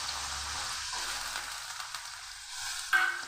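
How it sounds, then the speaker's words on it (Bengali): Chopped potatoes fry in hot white oil in a wok, giving a soft, steady sizzle close by, with a few faint knocks and a brief clatter near the end, and no talking. "এবার আলু ভেজে দিচ্ছি। আলু একটু লাল করে ভেজে নিতে হবে।"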